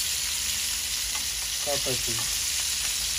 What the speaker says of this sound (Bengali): এই আমাদের মাছ ভাজি হয়ে গেছে